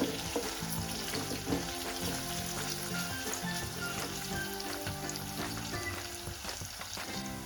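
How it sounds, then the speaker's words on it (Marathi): Onions fry in ghee until reddish-brown for soya bean pulao, a dense continuous sizzle with crackling pops heard close by, alone and without any talk. "आता कांदा आपला अगदी व्यवस्थित तांबूस रंगावर भाजलाय"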